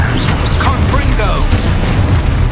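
A Confringo fire spell bursts in Hogwarts Legacy, a booming blast blended into a dense, loud game soundtrack with rumbling low end throughout.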